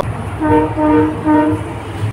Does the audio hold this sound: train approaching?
yes